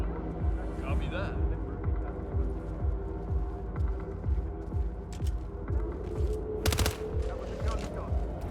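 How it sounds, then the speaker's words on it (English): Gunfire in the Hitman video game comes as a rapid, evenly spaced string of close, punchy shots, with a sharper burst near the end and people talking over it. "That was a gun shot. Stay alert."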